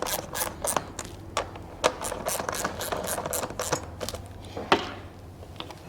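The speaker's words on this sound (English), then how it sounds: "Snug them up with the ratchet." A ratchet snugs up the bolts on a Land Cruiser 200 Series roof rack, its close, rapid clicking pawl coming in repeated bursts of strokes with small metallic knocks between.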